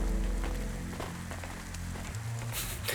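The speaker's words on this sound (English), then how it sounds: "I love how it's raining in the club." Steady rain hisses inside a club in the video game Cloudpunk, a constant patter with a low synth hum beneath it and no voices.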